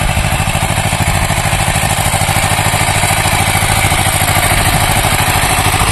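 A single-row engine-powered weeding machine, a cheap homemade rig for clearing weeds from a field, runs steadily with a loud, continuous clattering small-engine drone that stays even from start to finish, with no talk.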